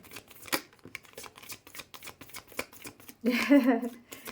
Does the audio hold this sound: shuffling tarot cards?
yes